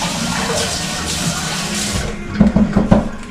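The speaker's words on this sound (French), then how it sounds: "On va rincer un peu ma carotte." Tap water runs steadily over a carrot being rinsed in a kitchen sink, a continuous close splashing wash that grows choppier with a few louder bursts near the end.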